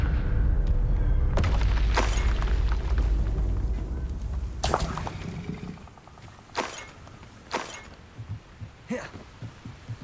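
Confringo blasting spells go off in Hogwarts Legacy, a string of sharp cracking bursts that fade into several short, spaced impacts over rumbling combat noise.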